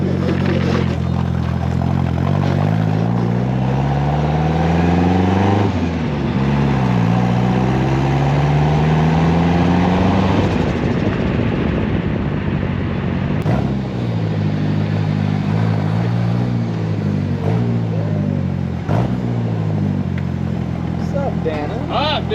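A Ford Cosworth car engine revs on a dyno, its pitch sweeping up and down in repeated pulls with a loud, close, steady drone.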